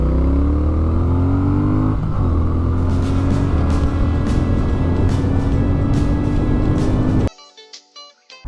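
A Triumph Speed Twin motorcycle in sport mode pulls hard under acceleration, with a loud, continuous engine drone rising in pitch over about seven seconds before cutting off abruptly into quieter clatter.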